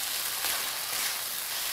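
Fried potatoes sizzle in oil-coated spice masala for a soybean curry, a steady bright crackling hiss close by, with no talk.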